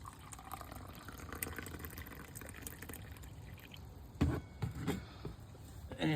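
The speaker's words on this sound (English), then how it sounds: "pour a little bit of coffee here" Soft trickle of coffee being poured into a cup, faint and steady, with a few small clinks near the end, in a hot tent with a wood-burning stove during cold-weather camping.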